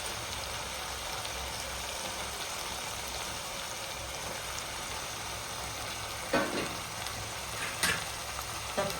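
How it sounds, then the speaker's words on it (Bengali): Fried Bhola fish pieces go into sizzling spice masala in a pan, a soft steady frying hiss with a few sharper clatters and stirring bursts near the end, no speech. "এবার আমি এক এক করে মাছ ভাজাটা আমি মশলার মধ্যে দিয়ে দেবো"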